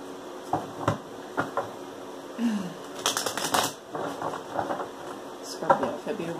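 Tarot cards being shuffled by hand, a series of close, crisp riffling bursts and taps with brief pauses between them.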